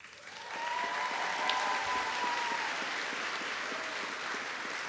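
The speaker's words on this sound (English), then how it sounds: "As I call their names, please don't hold back your applause." Sustained, loud applause fills a commencement hall at Pratt Munson as faculty names are called, a dense wash of many hands clapping from start to finish with a brief cheer near the middle.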